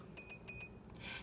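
Electronic beeps from a Proboat Zelos 36 ESC in programming mode: two separate, even, high tones close together, followed by fainter chirps.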